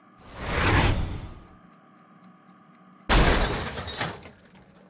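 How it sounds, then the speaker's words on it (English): A refrigerator smashed with a baseball bat in a kitchen, heard as two loud crashing impacts with glassy breaking debris, separated by a quieter stretch with a faint repeating electronic beep. "Now it's time to smash the refrigerator with a baseball bat."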